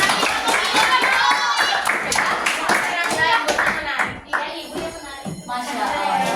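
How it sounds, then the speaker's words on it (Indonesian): Classroom applause from a group of participants in a coaching session, close, lively hand claps for several seconds that thin out midway before picking up again, with voices mixed in. "Tepuk tangan dulu dong buat kalian"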